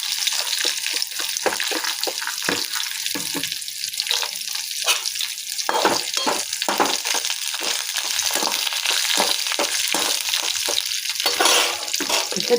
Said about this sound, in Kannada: ಎಲ್ಲ ಹಾಕಿ ಸ್ವಲ್ಪ ಚೆನ್ನಾಗಿ ಫ್ರೈ ಮಾಡ್ಕೊಳ್ಳೋಣ.